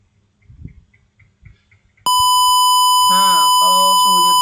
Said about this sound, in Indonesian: kalau suhunya terlalu panas, otomatis si buzzer ini menyala